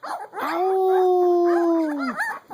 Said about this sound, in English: There we go, little baby howl.